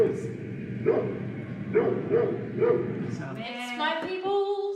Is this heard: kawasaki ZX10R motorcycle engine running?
no